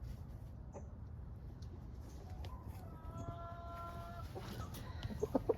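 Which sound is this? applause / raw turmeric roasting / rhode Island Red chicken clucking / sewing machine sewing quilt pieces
rhode Island Red chicken clucking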